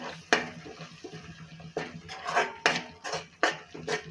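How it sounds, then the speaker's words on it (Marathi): Garam masala and turmeric are sautéed in oil in a pan, heard as intermittent metallic clinks and scrapes of a spoon against the pan, close and uneven, with only a faint sizzle and no talk. "त्यानंतर घालायचा आहे गरम मसाला एक चमचा मसाले छान परतवून घ्यायचे आहे"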